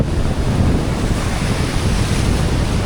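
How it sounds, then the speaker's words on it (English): Ocean waves roll in at a surfing beach in the Philippines, a steady, loud roar of surf mixed with heavy wind buffeting the microphone, with no voices. "Just seeing the waves coming in"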